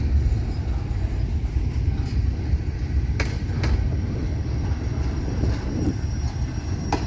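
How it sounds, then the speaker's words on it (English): Florida East Coast Railway Miami northbound train pulling into Bowden Yard in Jacksonville, Florida: a steady, loud low rumble of rolling cars with a few brief higher squeals and clanks, continuous throughout. "That's the Miami northbound pulling into the Bowden Yard here in Jacksonville, Florida"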